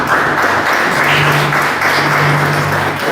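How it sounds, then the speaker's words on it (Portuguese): A church congregation claps steadily in dense, continuous applause, loud and close, with a sustained low hum beneath. "Palmas para Jesus."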